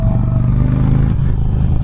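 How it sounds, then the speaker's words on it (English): Indian Challenger motorcycle exhaust, a loud, close, deep low rumble with a dense pulsing beat that holds steady throughout. "I really hope the exhaust gets picked up through the mic, because it is a very, very barky sound"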